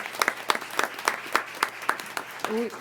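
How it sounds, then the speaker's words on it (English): Applause from the audience at a Duval County school board meeting, heard as sparse, evenly spaced claps that keep a steady rhythm, with a voice briefly speaking near the end. "Can I have one more round of applause for this impressive young man?"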